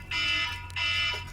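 An alarm goes off during a livestream, two shrill beeping bursts separated by a brief gap, fairly faint over a low background hum.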